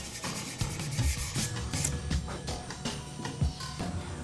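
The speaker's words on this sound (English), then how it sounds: "Once it's dry, sand it with coarse grit paper, like 80 or 120." Coarse 80 to 120 grit sandpaper rubs old paint off body filler on a 1970 Camaro RS/SS, rhythmic scratchy back-and-forth strokes close up and continuous, with no voices.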